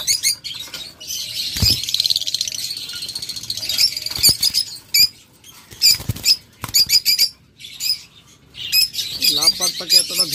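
Caged lovebirds and budgerigars chatter and squawk close by in dense, overlapping bursts of sharp chirps, with rustling and brief flutters between the calls.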